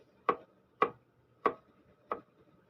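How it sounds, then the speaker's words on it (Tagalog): An onion is chopped with a knife while preparing a quick sardine dish with bitter melon leaves. Four crisp, evenly spaced chops land close by with short pauses between, and no one speaks. "So ngayon, maghiwa na tayo guys dito. Sibuyas."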